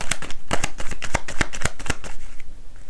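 Tarot cards are shuffled by hand in a quick run of crisp riffling flicks, close and fairly clear, trailing off at the end.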